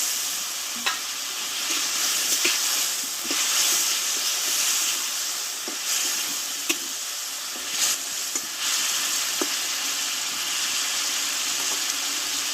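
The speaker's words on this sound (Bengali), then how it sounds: "এবার আমি জলটাকে দিয়ে দেবো কষে রাখা আলুগুলোকে দিয়ে দেবো" Water and sautéed potatoes going into a pan of sizzling spiced masala for a thin Bengali fish curry, a loud, steady frying hiss with occasional stirring clicks and scrapes, close and without talk.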